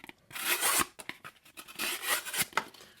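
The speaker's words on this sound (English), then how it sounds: "some good old single wall piece of cardboard cutting at a diagonal angle here for better performance" A flat-ground knife blade slicing diagonally through single-wall cardboard, giving several close, dry rasping cuts in quick succession, each a short scraping tear, alone without talk.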